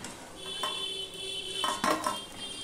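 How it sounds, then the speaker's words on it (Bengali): Fried banana muthiya go onto a dish with a few close metallic clinks and scrapes of a utensil against the plate, over a faint background sizzle. "দেখো একটা আমি ডিশে তুলে নিচ্ছি।"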